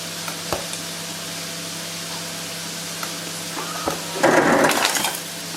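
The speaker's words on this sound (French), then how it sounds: "Vous avez vu, c'est de la glace pilée qui tombe." Crushed ice pouring out of a faulty Haier ice machine, heard as a dense, crackly rattle that swells near the end after quieter clicks and a steady mechanical hum.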